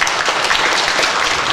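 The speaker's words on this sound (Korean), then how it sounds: "다시 한번 큰 박수 부탁드리겠습니다." Loud, steady applause fills the room at a local food and social enterprise symposium, a dense wash of many hands clapping continuously after a presentation.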